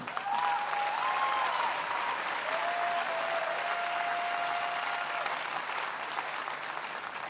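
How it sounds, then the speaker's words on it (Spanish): An audience at a guarania music festival in Paraguay applauds steadily, a fairly faint, even wash of clapping with a few whistles and a thin sustained tone over it. "sí, un aplauso para él"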